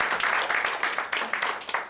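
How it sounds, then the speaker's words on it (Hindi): An audience at a Dubai taxi driver recruitment talk claps briefly, a close burst of applause with a pulsing rhythm. "तालियां तो बजाओ ना भाई"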